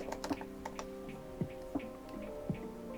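Computer keyboard typing, a handful of separate soft key clicks spaced irregularly over a quiet hum, close and fairly faint.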